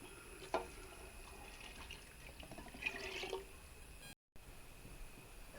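Coconut milk pours and splashes into a pot, with a few drips and soft trickling sounds, close by and fairly quiet.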